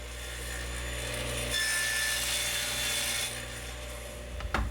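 A saw cuts a board clamped vertically to the rear fence of a Super Sled, a steady close whirring cut that swells midway, then winds down with a few knocks at the end.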